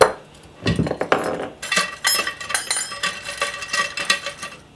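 Metal spokes being threaded one by one into the flange of a new motorcycle wheel hub for a Honda CL175 race bike, giving light metallic clinks and taps in quick, irregular bursts, close and moderately loud, with no talking.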